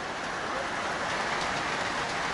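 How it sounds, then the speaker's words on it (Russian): A sudden rain shower pours down, a steady, dense hiss of falling rain with no breaks, moderately loud and close. "Внезапно дождь начался."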